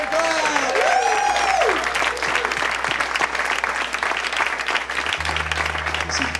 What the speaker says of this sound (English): So please give a big hand for one clap.